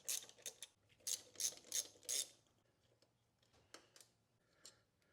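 A ratchet wrench backs out the two 12 mm bolts holding a Subaru WRX/STI coolant reservoir, giving quick bursts of close, crisp clicking, then a few fainter, sparser clicks with no talking.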